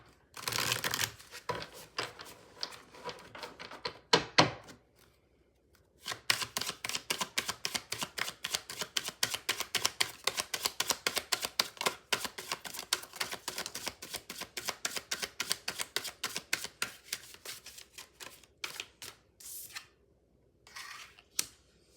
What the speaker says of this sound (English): I'm gonna shuffle again, hold on.